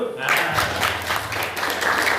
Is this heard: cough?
no